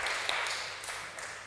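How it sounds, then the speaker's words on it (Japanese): Applause for a pastor at a Sunday church service in Japan, a steady wash of clapping from a congregation that holds at an even level, with no voices over it. "can you put your hands together and celebrate my pastor?"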